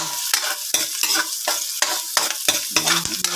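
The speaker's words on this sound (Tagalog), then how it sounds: "Ayan, gisa-gisa lang natin guys ng bahagya itong ating sibuyas at bawang." Pork leg being sautéed with onion and garlic in a pan, with repeated scraping stirs over a steady sizzle, close and fairly loud.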